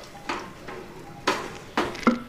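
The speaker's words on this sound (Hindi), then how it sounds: "कसूरी मेथी को अच्छे से मिक्स करूँगी" A spoon stirring chickpeas with about two teaspoons of kasuri methi in a pot, giving a few scraping, clattering strokes against the metal with a faint sizzle between them, close up and without talk.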